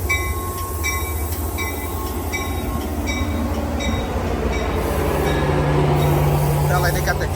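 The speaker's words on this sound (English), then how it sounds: "This is 505. Headed to San Francisco, the limited train." Caltrain limited train 505 passing with an F40PH diesel locomotive, a loud steady rumble and engine drone close by with faint rhythmic wheel clicks over the rails throughout.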